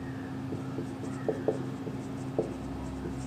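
Pen writing on paper while working through a geometry angles problem, soft scratchy strokes with a few sharper taps, faint against a low steady hum.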